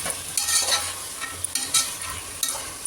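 Chickpeas tipped into a pan of frying curry base and stirred, with repeated scraping spoon strokes over a bright, close sizzle; no voices.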